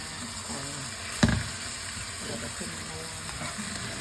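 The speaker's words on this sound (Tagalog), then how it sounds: "Sinuna muna namin sote ang giniling para lumabas ang manti-mantika." Ground pork sautéing in a pan to render its fat for a ginataang santol dish, a steady sizzle of frying with one sharp clatter from stirring partway through.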